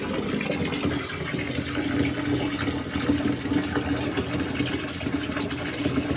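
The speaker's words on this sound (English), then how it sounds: "I'm gonna put the bath bomb in now" A bath bomb fizzes in a filled bathtub, giving a dense, even hiss of bubbling water that runs steadily throughout, close and fairly loud, with no voices.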